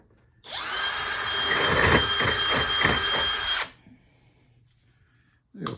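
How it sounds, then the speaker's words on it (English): A power drill boring holes through a four-wheel moving dolly, one sustained high whine of about three seconds with rhythmic pulsing as the bit bites, close and loud, then stopping, followed by a short knock. "I'm going to try drilling these holes through here a little bit better"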